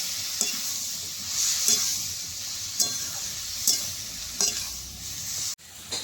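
Ripe cucumber frying in a pan with turmeric and split green chillies, a bright continuous sizzle close up, broken by several sharp spatula stirs and scrapes at irregular intervals.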